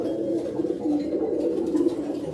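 Breeder pigeons coo in soft, low, rolling calls, several birds overlapping in a steady murmur close by.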